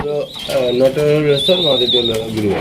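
A pair of pigeons with a chick cooing up close, several warbling coos overlapping with some chirps and a high whistling tone, mixed with nearby chatter.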